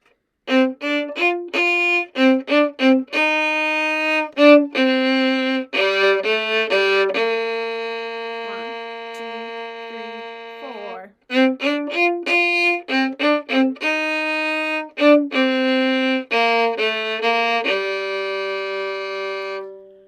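A solo violin melody starting on an up bow, from Rhapsody in Blue, with quick repeated notes and a few long held tones, clear and close, with brief pauses between phrases.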